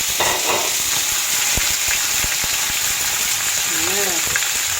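Squash slices frying in a pan give a loud, steady crackling sizzle with occasional utensil taps, and a voice speaks briefly near the end.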